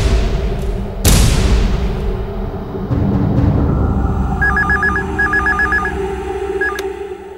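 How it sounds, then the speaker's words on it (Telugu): A landline telephone rings in a home, a repeating electronic trill in short bursts after a loud thump, clear and steady over a low background hum with no talk. "రింగ్ అవుతుంది నాన్న"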